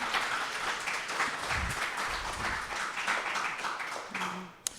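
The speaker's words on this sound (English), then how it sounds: "Wonderful applause." Audience applause in a talk setting: a steady wash of clapping from a crowd, fairly even throughout, with some faint murmuring underneath and a sharp tap near the end.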